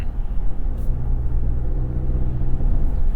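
The engine of a 2023 GMC Canyon pickup, with synthetic sound piped into the cabin, gives a steady low rumble from inside the truck, even and unbroken with no voices.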